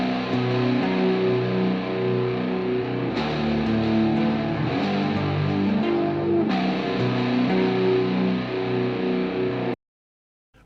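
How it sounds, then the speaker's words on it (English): Two distorted electric guitars play together in a dense, steady rock part with ringing chords, loud and continuous before stopping abruptly near the end. "the two guitars sound like this"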